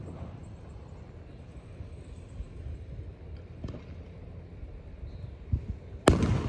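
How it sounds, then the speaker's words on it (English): Distant Fourth of July fireworks bursting outdoors, mostly a low rumbling backdrop with a couple of faint pops and one sharper, louder crack near the end. "Oh, that was a loud one."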